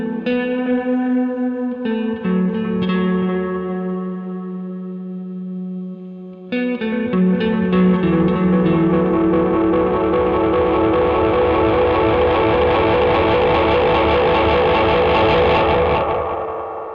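An electric guitar runs through a Keeley Caverns V2 reverb and delay pedal, with sustained chords ringing into long, lush washes of reverb and repeating echoes that swell and trail off.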